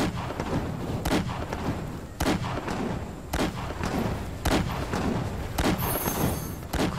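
Gunfire and artillery blasts in the video game Zack Zero: heavy booming shots land about once a second over a dense, constant battle rumble, loud and close with no talking.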